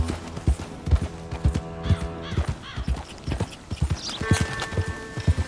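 Horse hooves clip-clop in a steady, rhythmic gait while riding in Red Dead Redemption 2, close and clear with occasional game ambience and a brief whinny-like tone near the end.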